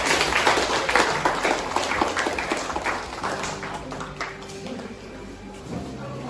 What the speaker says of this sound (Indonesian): Dan kita kasih aplaus untuk Agil dan Fatul